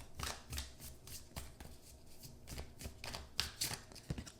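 Tarot cards shuffled by hand close up, a series of soft riffling and flicking bursts with small taps between them, no talk.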